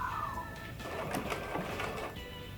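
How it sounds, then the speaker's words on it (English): Sewing machine stitching welting with a plastic cord inside, run slowly while making cushions for a wrought iron patio set: a steady, close mechanical whirr with a rapid needle chatter throughout, and no voices. "Now the sewing can begin."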